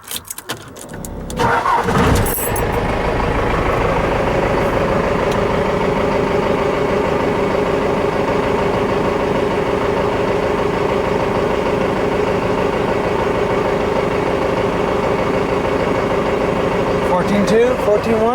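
A Cummins diesel engine in a Ford F150 bullnose truck cranks and catches, then settles into a steady, loud idle that runs on with a low, even rumble.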